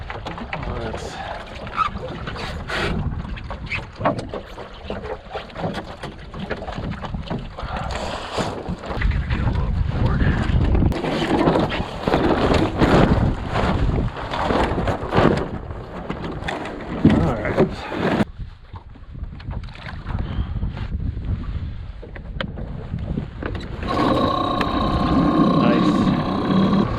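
A sailboat heels through gusty wind on Lake Erie as heavy, surging wind rumbles across the microphone, rising and falling with each gust. Someone talks at times over the rush of air and water.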